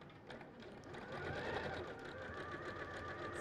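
A sewing machine stitches along a marked diagonal line on a quilt square, running steadily and close with a continuous, even motor whir and rapid needle chatter throughout.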